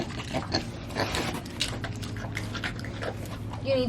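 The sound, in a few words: pigs eating eggs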